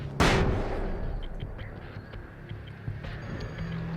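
Grenade blast in the video game Alan Wake's American Nightmare: one sudden, sharp boom near the start, followed by low rumbling game noise and scattered faint clatters.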